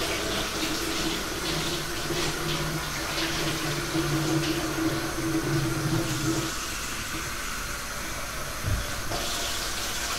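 Cold tap water runs steadily into a sink while a cake is prepared in a home kitchen, a constant hissing stream with faint clinks and a brief knock near the end.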